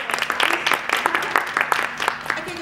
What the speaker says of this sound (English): Round of applause anyway for